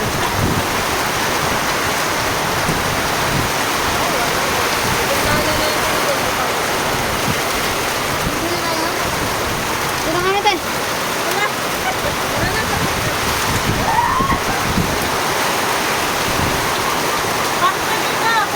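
Steady, dense rushing of rain, loud and continuous throughout, with a voice speaking briefly over it.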